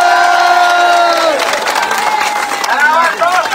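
A rally crowd cheers and shouts loudly and continuously, with clapping mixed into the roar and voices rising over it throughout.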